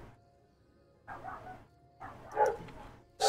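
A neighbor's dog barks in separate bursts, with a few sharp barks spaced about a second apart and another starting at the very end.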